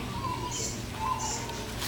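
Australian birds in a turpentine-ironbark forest aviary at Taronga Zoo give two short, clear calls about a second apart over a steady background hum.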